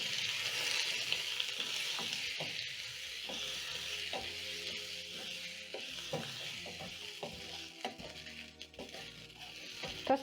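Potatoes and carrots fry with garlic in a pan, a loud, bright sizzle that settles into a steady hiss, broken by the scrape and clack of stirring.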